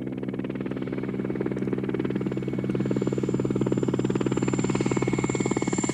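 Helicopters flying over rioting crowds during the March 23 unrest in Morocco, a steady, loud rotor thrum with a continuous droning buzz that swells slightly and holds throughout.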